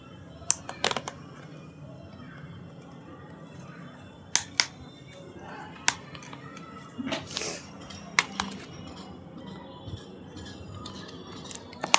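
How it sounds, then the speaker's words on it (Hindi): Push button pressed on an adjustable roller skate to release its length setting, heard as a few sharp, close plastic-and-metal clicks and snaps spread over a quiet background, with no talking. "अब पीछे से इस पुश बटन को दबा के मैं खोल लूँगा।"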